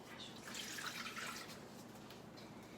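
Water being poured into a Thermomix while mixing play dough: a steady, close splashing hiss that swells briefly near the start, then settles into a softer trickle with no talking.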